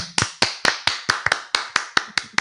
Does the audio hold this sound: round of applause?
yes